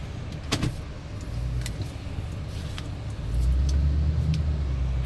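Toyota Tundra pickup fitted with an aFe cold air intake pulls away, a low steady engine rumble from inside the cab that deepens and grows louder toward the end, with a few light clicks and rattles.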